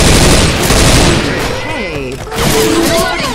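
Shotgun firing in the video game Left 4 Dead 2: loud booming blasts in the opening second, then chaotic gameplay noise with voices speaking.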